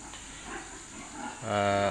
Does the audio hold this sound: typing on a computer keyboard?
no